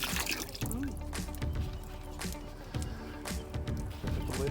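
Bleach poured into a camper's fresh water tank, a faint irregular splashing and dripping of liquid with scattered small knocks, no talking.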